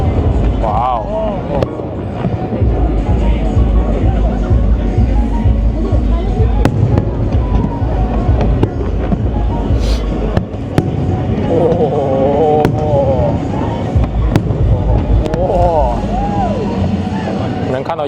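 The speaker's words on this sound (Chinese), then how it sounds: "烟花现在我是听的" New Year fireworks burst over San Francisco in a loud, continuous barrage of booms and crackles, with crowd voices and people talking throughout.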